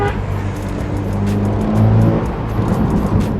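A Ferrari Portofino M being driven hard on an open road gives a steady, loud engine roar with a deep low rumble that swells slightly midway.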